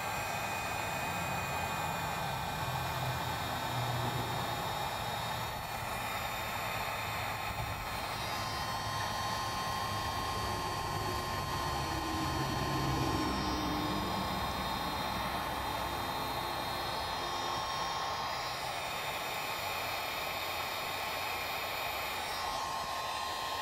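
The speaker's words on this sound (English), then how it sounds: "Take a heat gun." A heat gun shrinks marine butt connectors on trailer light wiring, a steady close blowing whoosh with a faint tonal whine that holds unchanged throughout with no talking.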